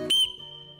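A clay figurine whistle by folk potter Rosa Ramalho gives one short, shrill, piercing toot, close and loud, that cuts off quickly into a quiet room.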